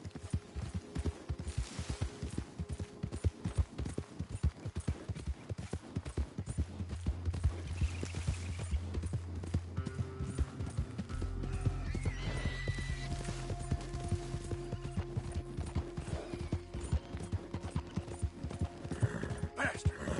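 A horse gallops in the video game Red Dead Redemption 2, with continuous rapid hoofbeats and a whinny over a dense layer of game ambience and music, while a voice speaks briefly.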